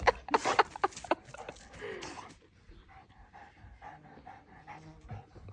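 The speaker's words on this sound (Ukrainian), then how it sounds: "Та ну Джесі не хекай, господи." Quick, breathy dog panting close by at the start, then faint whimpering and soft background noise.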